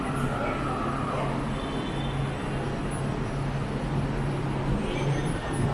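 A steady low rumble of an idling two-car light rail train at a station fills the air, a constant mechanical hum with surrounding station and traffic noise.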